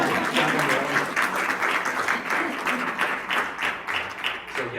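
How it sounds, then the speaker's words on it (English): Steady applause from an audience at a monthly membership meeting of a chamber of commerce, a dense continuous patter of many hands that stays fairly even for several seconds without voices on top. "Can everybody give the Senator a good round of applause for shopping Orland?"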